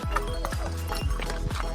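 Horses walking in snowy Gulmarg, Kashmir, hooves clip-clopping in a steady rhythm of close, distinct knocks, with a faint murmur of voices beneath.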